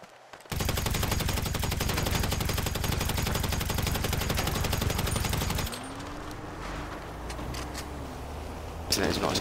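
Sustained rapid automatic gunfire in GTA 5 Online, loud and continuous for several seconds before cutting to quieter ambient noise with a few scattered shots near the end.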